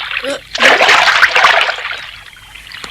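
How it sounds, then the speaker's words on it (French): Water splashes as a head is dipped into a river: a brief slosh, then a sustained splashing churn lasting over a second before it fades, with a voice heard briefly. "Retrempe-toi la tête dans l'eau."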